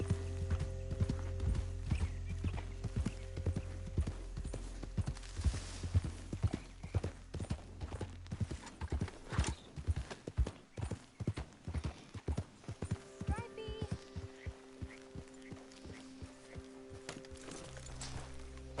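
Horse hooves clip-clop in steady rhythmic beats in Red Dead Redemption 2, shifting from a slower pace into a quicker galloping run and then easing off, moderately close, with a low background hum and no talk.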